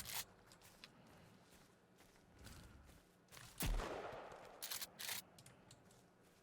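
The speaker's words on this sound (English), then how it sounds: "Yes, it's a shotgun." Shotgun blasts in the survival game Sons of the Forest, loaded with slug ammo: a few sharp, fairly faint reports spaced across the stretch, the loudest near the middle, with no talking.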